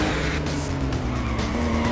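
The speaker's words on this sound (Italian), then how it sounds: "Scivola lateralmente lungo la curva." Car in the Juiced 2 racing game sliding sideways through a curve, a loud continuous tire squeal and skid over engine roar, close and steady throughout.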